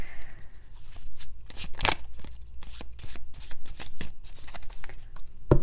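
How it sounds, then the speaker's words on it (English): Tarot cards are shuffled and pulled in a steady run of crisp riffling slaps and soft flicks, close up and fairly loud, with no talk. "I'm gonna have to pull more cards on that."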